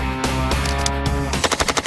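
An Uzi empties its magazine in a rapid burst of automatic gunfire, loud and close, with sharp evenly spaced shots.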